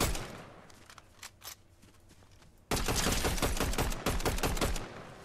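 A few scattered gunshots crack in Fortnite, then a dense, sustained burst of rapid gunfire erupts loud and close, continuing to the end.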